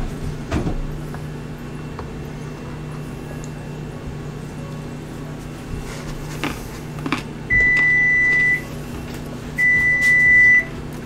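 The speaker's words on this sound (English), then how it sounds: "I think that alarm is actually even louder in my ear" A kitchen timer alarm gives two loud, steady electronic beeps, each about a second long, near the end. Before them come quiet kitchen clatter and a low background hum.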